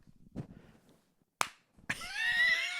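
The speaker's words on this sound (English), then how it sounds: "Sync claps for you. Sync clap." A single sharp hand clap rings out after some faint murmuring, quickly followed by a loud, high-pitched, drawn-out vocal sound.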